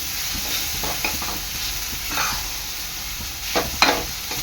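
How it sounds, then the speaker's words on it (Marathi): Grated fresh coconut being stirred into hot melted jaggery in a pan, a continuous soft sizzle with occasional spoon scrapes and light knocks, close and moderately loud, no voices. "गूळ वितळलेलं आहे आता ह्यामध्ये ॲड करणार आहे मी आपलं किसलेलं ओलं खोबरं चांगलं मिक्स करून घ्यायचं आहे"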